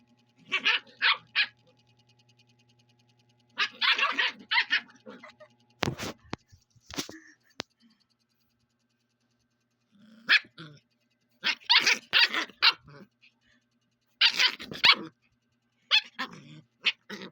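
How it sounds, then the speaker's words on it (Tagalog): A dog barks and growls in short bursts separated by pauses, close and fairly loud, with a person talking and a few sharp knocks between the outbursts. "Ang high blood mong aso."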